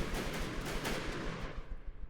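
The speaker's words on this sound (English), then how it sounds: "It still has some little derpy weapons that are firing." Small guns aboard a sailing-era warship in From the Depths keep firing in a rapid, continuous clatter of overlapping shots, steady and dense throughout with no talking.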